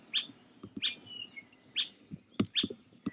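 A Hawaii Elepaio in the Hakalau Forest gives a series of four sharp, bright chirping calls at irregular intervals, clear and fairly close, alongside scattered low knocks and rustles.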